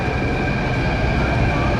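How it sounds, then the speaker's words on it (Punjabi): An underground Delhi Metro train runs with a steady, loud rumble and hum throughout, heard from inside or beside the carriage. "ਥੱਲੇ ਮੈਟਰੋ ਟ੍ਰੇਨ ਚੱਲਦੀ ਹੈ"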